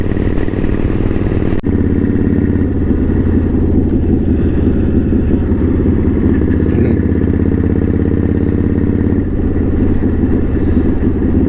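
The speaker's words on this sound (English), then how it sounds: "it's like I'm riding a chopper" A chopper-style motorcycle being ridden gives a loud, steady engine drone with constant rumble that runs for the whole stretch, close up, with no talk.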